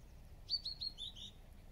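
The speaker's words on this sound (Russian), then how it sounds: "И птички поют" A small bird sings a quick series of four or five bright chirps, fairly close, over a quiet low outdoor hum, by the Lielupe River at the White Dune in Latvia.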